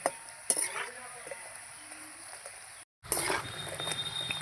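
Gaja pastries being stirred as they fry in hot oil, a steady sizzle with scraping stir strokes and a brief dropout midway, then louder bubbling resumes.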